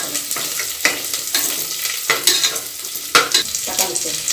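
Garlic and onion fry in a pan for tamarind pongal, a constant sizzle broken by repeated scraping strokes of a spoon stirring, close and loud with no talk.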